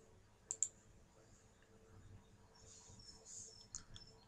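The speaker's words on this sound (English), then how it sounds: "Oh, right-clicking them." A computer mouse right-clicking in the level editor of the game The Rescue of the Elements: a few faint, sharp clicks, two in quick succession early on and another near the end, over quiet background.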